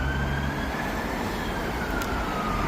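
Fire truck siren on a busy road junction near South Woodford, a wailing tone sweeping through heavy traffic noise, fairly steady and moderately close over the constant road rumble.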